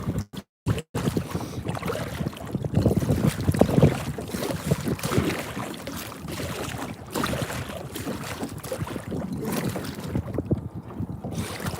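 Gusty wind buffets the microphone on open water from a kayak, a steady rumbling whoosh with occasional bumps and splashes and a few sharp dropouts near the start.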